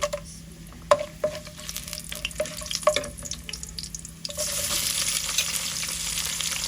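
Hot oil sizzles in a pan while pulao is being cooked, a soft crackling hiss dotted with small clicks and taps of utensils, then swelling into a fuller, steady sizzle toward the end.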